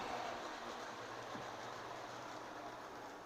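A vintage 1970s Lionel model train running on its track, a faint, steady rumbling hum with soft rolling clatter, continuous and without talking.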